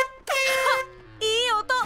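A cartoon car fitted with a new, different-sounding horn honks in two loud, tonal blasts, a long one and then a shorter one, with no talking.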